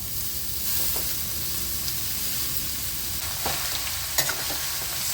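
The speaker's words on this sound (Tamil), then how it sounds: "இப்போ நம்ம துருவி வச்சுருக்க கேரட் அதில் சேர்த்துடலாம்." Grated carrot frying in ghee with roasted cashews and raisins for carrot halwa, a steady broad sizzle with occasional soft stirring scrapes and small clinks, close and continuous without talk.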